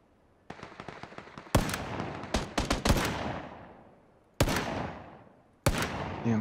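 Gunfire in the battle-royale video game PUBG comes as a rapid burst of small shots followed by several loud sharp reports with decaying tails, spaced irregularly with no talk.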